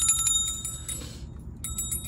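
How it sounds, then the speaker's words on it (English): A small hand bell is rung briefly with bright, tinkling metallic chimes in two short bursts separated by a pause; close and fairly faint against low background rumble, with no talking. "whenever she needed me or Justin, she would do this, like ring the bell"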